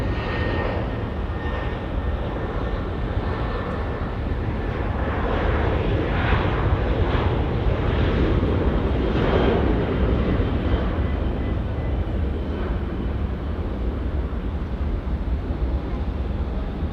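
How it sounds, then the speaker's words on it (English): A Texel plane accelerates down runway 23 at Auckland Airport, New Zealand, its engine roar loud and broadband as it builds and holds, with a faint voice blended in. "Texel now getting airborne in just a moment. Racing down runway 23 here at Auckland Airport"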